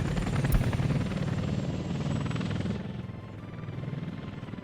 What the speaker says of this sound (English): We'll have a helicopter just for vodka.